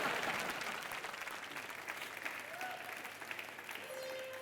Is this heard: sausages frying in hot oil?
no